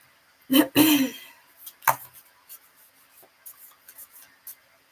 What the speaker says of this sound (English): let me give these cards a little shuffle